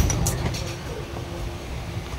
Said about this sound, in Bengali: এই যে ট্রেন বন্ধুরা ছেড়ে গেছে,